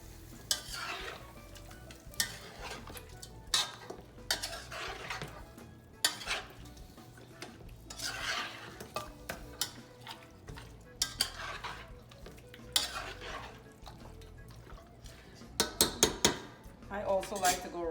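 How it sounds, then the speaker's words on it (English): Oxtail is stirred with coloring in a pot, heard as close, irregular scraping and knocking of a spoon against the metal, with soft sizzling between strokes and a quick flurry of clanks near the end. "This a very good stir up, make sure all the coloring gets on all the oxtail"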